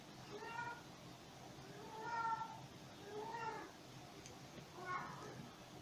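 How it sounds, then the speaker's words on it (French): A cat meows repeatedly, four drawn-out calls spaced about a second apart, fairly close, over a soft background hiss. "mon chat a décidé de commencer à miauler"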